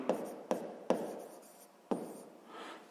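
Pen or pencil writing on paper for a sixth-grade maths exercise, close and quiet, with four sharp taps as the tip strikes the page, each followed by a short scratchy stroke.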